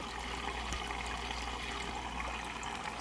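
Water pouring and trickling as fish are released into a home aquarium tank, a soft continuous liquid wash heard close and faint, with no talking.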